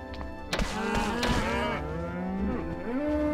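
Cows mooing in the video game Minecraft, several long low moos overlapping and close, with a couple of dull thumps mixed in.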